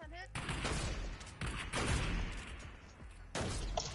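Rapid gunfire in a random-team online shooter game fills the scene as dense, loud bursts of overlapping shots with brief gaps between volleys.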